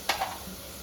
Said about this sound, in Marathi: मटण मसाला आता आपण छान तिथे परतवून घेऊ